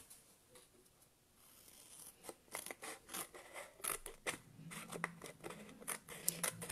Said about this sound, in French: Et en fait, je vais le découper au ciseau, du coup.